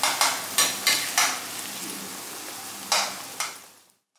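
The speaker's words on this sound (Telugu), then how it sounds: "మూకుడులో కొద్దిగా ఆయిల్ వేసుకుని ఆయిల్ బాగానే పడుతుందండి ఆయిల్ వేసుకుని ఈ ఉల్లిపాయ అంతా కూడా మనం కట్ చేసుకున్న ఉల్లిపాయ అంతా కూడా వేసేసుకోవాలి" Chopped onions are tossed in oil in a wok, a few sharp bursts of hiss from spoon strokes over a steady fry that fades out at the end.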